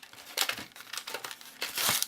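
Office Depot correction tape packaging crinkles and tears up close in quick, irregular bursts of crackling plastic, growing denser and louder toward the end, with no talking.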